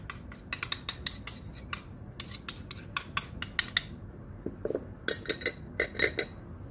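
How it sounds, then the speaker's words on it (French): A spoon stirs cornstarch into lemon juice in a bowl, making a quick series of light metallic clinks and scrapes, close and clear with no talk. "Et on remue ça bien."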